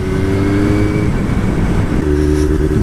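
A car engine revs hard inside a road tunnel, a loud sustained roar with steady harmonic tones that drop briefly and then climb again, the sound echoing off the enclosed walls with no talking.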